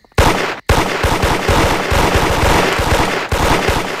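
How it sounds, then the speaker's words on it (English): Rapid gunfire in a Roblox horror game: loud, close bursts of sharp cracks in fast succession, nearly continuous automatic shots after a brief pause near the start and another small gap later. "That sounded like a gunshot."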